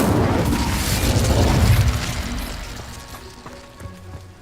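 Incendio fire spell cast in Hogwarts Legacy, a loud whooshing boom that swells over the first two seconds and then fades into a crackling, rumbling tail, with no voices.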